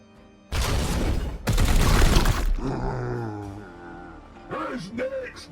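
Two loud, heavy blasts of gunfire in a Warhammer 40,000 game, each a broad roaring burst lasting about a second, followed by a groaning voice and game sounds.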